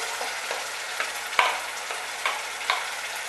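Ground turmeric, chili and coriander powder sizzle with ginger and garlic in hot oil, a soft steady fry broken by a few sharp clicks of stirring, with no voices.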